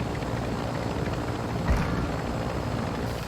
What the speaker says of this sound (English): there's going to be people approaching the helicopter and trying to take it